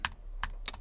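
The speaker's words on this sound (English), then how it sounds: "if we start typing table view" Typing on a computer keyboard while coding an iPhone app, three close crisp key clicks with short gaps between them, the last a quick double tap, with no voice.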